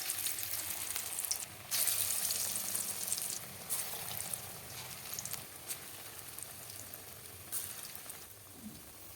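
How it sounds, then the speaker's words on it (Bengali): Small lentil and onion fritters, made from khesari dal batter, fry in hot oil with a steady, moderately loud crackling sizzle. The sizzle is interrupted by brief louder bursts of frying. "লাল লাল করে ছোটো ছোটো করে ভেজে নেব।"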